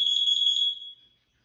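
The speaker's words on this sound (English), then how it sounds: "Testing smoke. Testing carbon monoxide." A household smoke alarm under test gives a single shrill high-pitched electronic beep that holds for under a second, then fades quickly into silence, close and alone.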